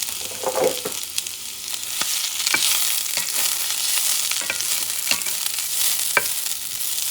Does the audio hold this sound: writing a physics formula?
no